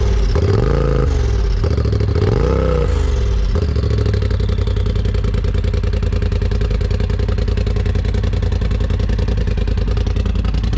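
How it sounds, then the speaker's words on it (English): A loud UTV engine with an open Evo Captain's Choice full exhaust revs in a few quick bursts, then drones at a steady, rough, close idle. "That's the Evo Captain's Choice full exhaust. And it sounds great."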